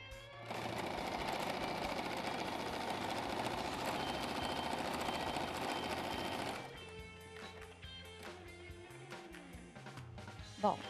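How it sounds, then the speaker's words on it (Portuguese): A sewing machine stitches a seam across fabric in a loud, steady mechanical run for about six seconds, then stops. Quieter handling and clicks follow. "vou virar o tecido, vou vincar e vou passar outra costurinha aqui por cima para dar um charme"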